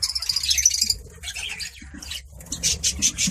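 Small colony of budgie parakeets chirping in a cage setup, bursts of high twittering and warbling calls close by, with short quieter gaps between.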